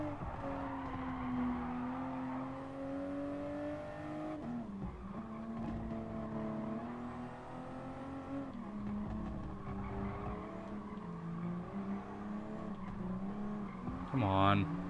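Race car engines from the Gran Turismo Sport video game hold a steady, loud drone with rising and falling harmonic pitch as cars shift and jostle for position, a brief tire squeal near the end, with someone talking over it throughout.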